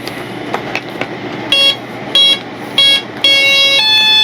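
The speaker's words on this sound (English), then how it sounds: "you heard those first 3 beeps. That was your ESC." An electronic speed controller in an FMS Ranger 1220 RC plane gives a series of short startup tones beeping in a rising pattern, followed by a longer sustained beep, over a faint background hum.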